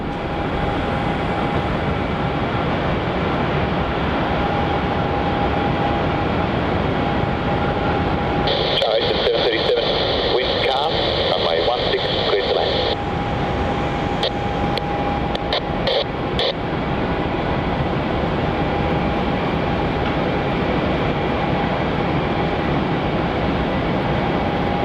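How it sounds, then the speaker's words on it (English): A Qantas QF675 airliner departs runway 27 at Melbourne Airport bound for Adelaide, a steady distant jet roar sitting under continuous radio chatter and voices. "And we've got a departure here off runway 27,"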